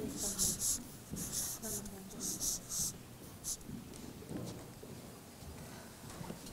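Someone writes on paper, with a pen producing bursts of scratchy strokes in short rhythmic groups, close and clear, while a voice speaks quietly underneath.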